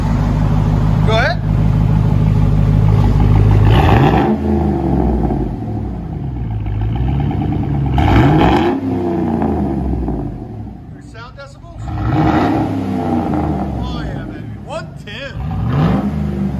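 A 2009 Chevy Suburban with a 5.3L V8 on straight pipes revs hard in repeated loud bursts, the exhaust rising and falling several times, with people talking nearby.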